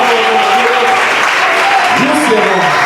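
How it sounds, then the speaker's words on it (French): Steady applause from a church congregation during a sermon fills the clip, with a preacher talking over the clapping throughout. "Applaudissez pour le Seigneur."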